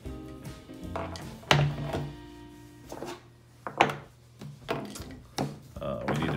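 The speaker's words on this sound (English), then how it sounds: "it's pretty easy to wiggle the action and the barrel loose from the unit" A Ruger 10/22 action and barrel are worked loose from the stock with a scattered series of close wooden knocks and dull clunks, some sharp and some soft, spread irregularly across the clip.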